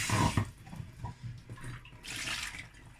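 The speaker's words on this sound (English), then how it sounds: "I'm going to add the stock and I'm going to add water" Stock and water are poured into a blender jar in a few splashy gushes and glugs over three seconds, fairly close and clear, with no voices.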